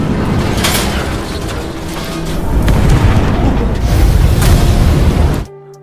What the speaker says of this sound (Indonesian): Gunung Baekdu kembali meletus untuk kedua kalinya